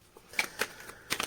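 Tarot cards being shuffled, a few soft quick riffles and flicks close by and faint in a quiet room.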